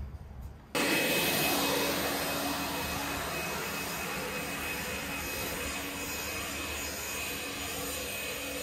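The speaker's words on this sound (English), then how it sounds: "this is what we're cutting with here. This is the Allet Stirling. It's actually a battery cylinder mower." An Allet Stirling battery-powered cylinder mower cutting a lawn, a steady loud whirring drone of spinning blades that kicks in abruptly after a quieter start and holds evenly close by.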